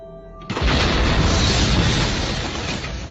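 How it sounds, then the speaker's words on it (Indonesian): A huge bomb blast in a Rush Hour film scene erupts suddenly after a brief quiet moment, a loud, dense roaring boom that sustains for a few seconds before cutting off. "tiba-tiba terjadi ledakan yang sangat besar yang menghancurkan ruangan tersebut"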